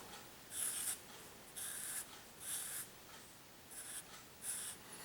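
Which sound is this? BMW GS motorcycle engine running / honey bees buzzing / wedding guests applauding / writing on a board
writing on a board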